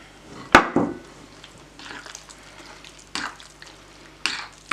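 Cake batter for a drunken cherry cake, with 100 g of cherry liqueur added, stirred thoroughly in a bowl: one sharp clink of the spoon, then soft intermittent scraping strokes, close and fairly quiet, with no talking.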